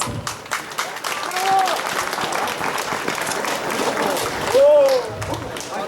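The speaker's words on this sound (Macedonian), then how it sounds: "Замолувам за аплауз." Audience applause fills the air at an Ilinden celebration in Rusinovo, steady clapping from a crowd lasting several seconds, with a brief whistle-like tone rising above it midway and again near the end.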